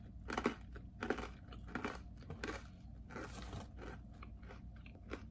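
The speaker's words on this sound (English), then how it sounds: "They're crunchier than regular pretzels." Crunchy cheese pretzels bitten and chewed close to the mic, with a series of loud crisp crunches every half second or so, followed by steadier, softer chewing.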